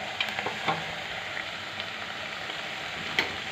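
Potatoes and spinach fry in a pan with a soft, even sizzle, interrupted by a few light stirring clicks, alone and fairly quiet.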